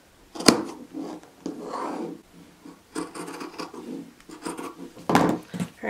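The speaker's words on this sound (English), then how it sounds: "and I'm gonna cut all the way around." Scissors snip and rasp through quilting fabric as a crumb-pieced pillow cover is cut out around its edge, giving a close series of uneven cutting strokes with short pauses and one sharp snip near the start.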